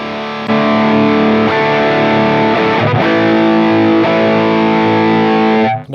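A Mesa Boogie Mark series guitar amplifier in extreme mode, heavily distorted: loud, saturated sustained chords and riffs ringing continuously for several seconds before cutting off abruptly.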